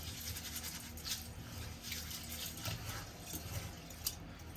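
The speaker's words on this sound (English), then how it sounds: "So people have always told me like how many times you gotta wash the rice." Rice being washed under a running kitchen tap, a faint steady stream of water with soft splashing and sloshing from the grains being stirred.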